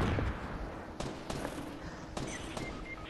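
Video game gunfire in a battle shooter, several distant sharp shots and booming bursts spaced irregularly across a few seconds, fairly faint.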